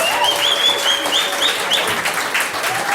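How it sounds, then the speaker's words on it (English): Studio audience applauding the backstage crew at the close of a New Year's television show, a steady dense clapping wash at full level with faint tonal sounds drifting over it. "A big applause for the people backstage."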